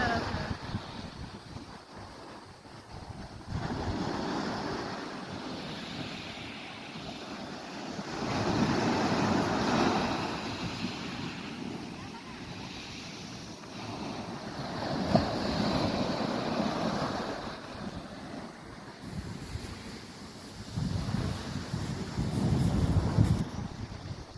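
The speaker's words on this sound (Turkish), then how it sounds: "Denizin dalgası o kadar şahane ki." Sea waves surge and break on a shore at a seaside campsite in a slow rolling rhythm, mixed with heavy wind buffeting the microphone, moderately loud and steady throughout.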